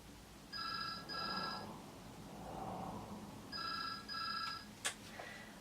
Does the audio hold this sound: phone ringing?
yes